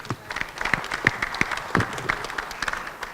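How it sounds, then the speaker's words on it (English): A small audience at a health-access panel session claps in a short run of applause. Individual hand claps sound close and distinct over a moderate patter, with faint voices mixed in. "She needs an applause for this."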